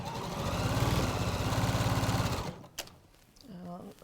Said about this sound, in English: I'll just chain piece these so it's quicker.